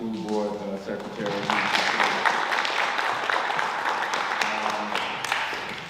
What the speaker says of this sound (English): Let's give a hearty round of applause for our school board president and our school board secretary